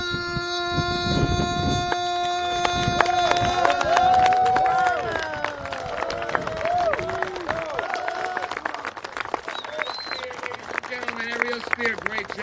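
Audience applause and cheering after the national anthem at a field dedication ceremony, beginning beneath the final held notes of the song and then continuing as steady, broad clapping from the crowd.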